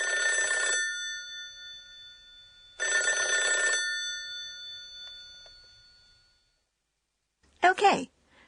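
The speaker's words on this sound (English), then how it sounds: "I think it's maybe the sound of a telephone." A telephone ringing in two long bursts, each a steady electronic trill about a second long with a pause between, then a short higher chirp near the end, set against quiet.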